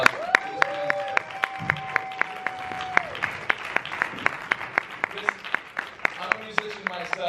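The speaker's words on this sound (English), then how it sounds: "Huge round of applause." Audience at a Q&A screening of The Ice Cream Truck applauding, a steady patter of hand claps with a few louder close claps, under a sustained tone and some talk.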